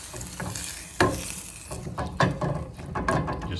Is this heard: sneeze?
no